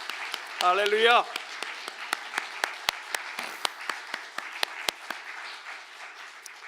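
A congregation claps in thanks during a Korean Presbyterian Thanksgiving worship service. A voice rings out briefly at the start, then scattered, crisp claps continue fairly near at a moderate level.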